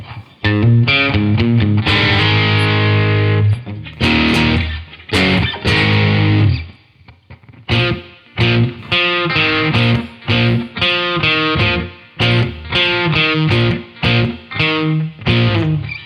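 Distorted electric guitar plays loud sustained chords and choppy riffs, stopping briefly midway before resuming in short punchy bursts, with no voices.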